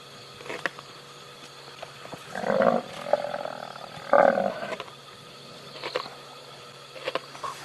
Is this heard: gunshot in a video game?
no